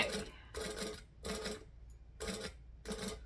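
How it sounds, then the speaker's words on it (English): A sewing machine top stitches fabric in five short, even bursts of whirring, separated by brief pauses, close and fairly quiet. "So I'm top stitching at 1/8 of an inch, or to the best of my ability at 1/8 of an inch"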